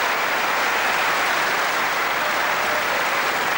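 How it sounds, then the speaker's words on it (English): A snooker crowd at a 1984 Masters semi-final match breaks into sustained, dense applause with scattered cheers, loud and close, steady throughout with no pause. "Well, they're cheering,"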